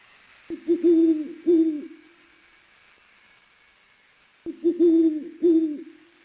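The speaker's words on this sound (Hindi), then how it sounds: "और बस कुछ उल्लू की आवाज आ रही थी।" Owls hoot in two separate pairs of low, wavering calls against a still night background with a faint steady high hiss, each call clear and fairly close, a long quiet gap between the pairs.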